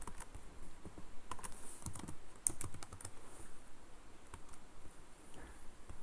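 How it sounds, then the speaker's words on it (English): Typing on a computer keyboard while entering a horse racing bet, heard as a quiet, uneven patter of key clicks with a few sharper taps, faint and close against a low background hum. "Let's type it in here."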